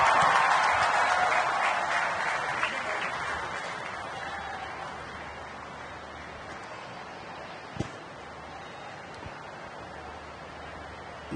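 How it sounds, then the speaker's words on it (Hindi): Audience applause greeting Chief Minister Yogi at the silver jubilee ceremony of KNS hospital in Lucknow, a broad crowd wash loudest at the start and fading gradually over several seconds. "जोरदार तालियों के साथ स्वागत करें।"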